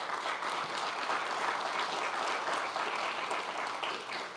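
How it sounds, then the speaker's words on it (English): Steady, dense applause fills a meeting room of the New York State Commission on African American History, an even wash of many hands clapping together, sustained at a constant level throughout with no talk. "Let's give her a round of applause."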